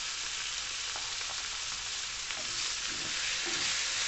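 Raw banana (valakkai) slices frying with turmeric in oil, a dense, steady sizzle with occasional stirring knocks, heard close and with no talking.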